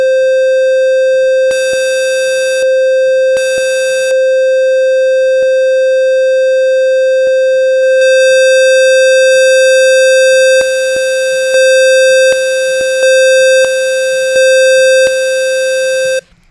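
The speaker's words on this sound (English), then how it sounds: "you can definitely hear it's a square wave" A steady, buzzy electronic tone rich in harmonics, holding one pitch and pulsing on and off in short bursts, loud and harsh.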